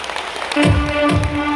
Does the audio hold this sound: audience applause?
yes